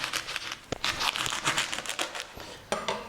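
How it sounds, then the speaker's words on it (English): A knife cuts the end off a sweet corn cob, giving crisp crunching and tearing of husk and kernels in several close, uneven bursts. "So the right way is to cut the corn from here like this."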